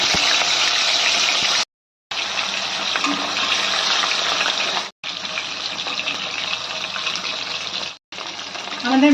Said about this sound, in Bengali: এবার আমরা মাছগুলো একে একে ভেজে নেব